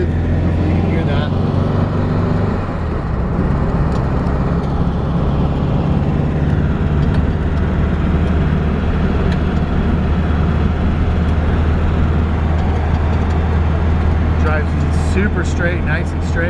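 A 1963 air-cooled VW Beetle ragtop drives along with a loud, continuous engine drone and road rumble, the pitch shifting as it runs through the gears.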